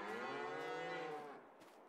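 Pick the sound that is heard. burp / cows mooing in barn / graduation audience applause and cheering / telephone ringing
cows mooing in barn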